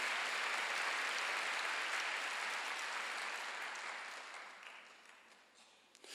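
A church congregation at a Sunday worship service applauds in a dense, even roar of clapping that holds steady, then slowly tapers off toward the end.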